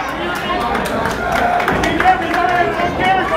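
Wrestling crowd at an ARW Unstoppable event roaring and cheering steadily in a large room, a continuous dense wash of voices with a few louder swells.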